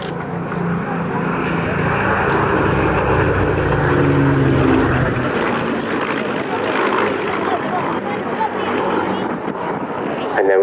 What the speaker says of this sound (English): we'll see that perfectly line abreast formation of the two Spitfires